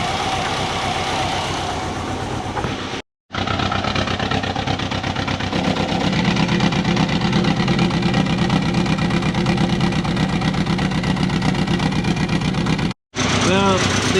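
A car engine idling steadily after an ECU update, its exhaust leaking badly, giving a loud continuous rumbling drone with two brief cutouts; a voice talks over it.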